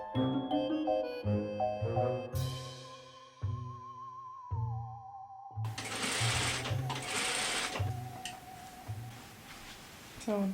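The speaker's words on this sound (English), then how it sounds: "They're very pretty and I think I will sew them on now." A home sewing machine stitches small fabric rose loops onto a Halloween-themed dirndl dress, its needle running in steady rhythmic bursts close by, with someone talking over it and a brief musical tone.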